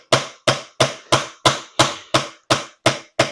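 Ten sharp, evenly spaced hammer blows strike a nail into wood, close and steady, each ringing briefly before the next.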